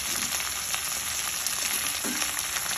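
Washed ponnaganti greens sizzling in a hot pan, an even, close crackle of frying that runs throughout with a few faint stirring scrapes and no talking.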